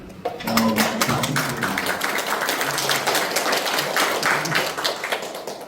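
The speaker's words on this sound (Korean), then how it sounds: "큰 박수로" An audience at a lecture during a dental policy course graduation bursts into applause. Dense, sustained clapping starts suddenly and carries on loudly to the end.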